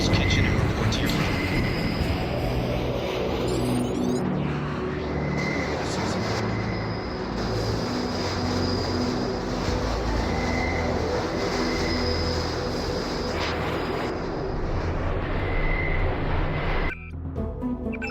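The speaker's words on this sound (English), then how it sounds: "Now take the train to Hell's Kitchen and report to your brother." A train rumbles steadily in the video game Deus Ex: Revision on the ride to Hell's Kitchen, a continuous loud rolling drone with clanks and periodic tonal whines throughout, ending abruptly near the close.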